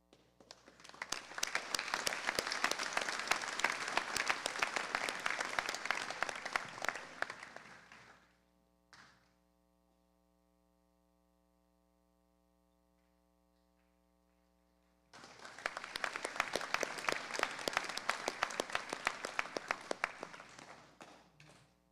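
Scholarship-night audience applause, two long bursts of dense clapping that swell and fade, separated by a quiet gap with a brief stray clap, heard without talk.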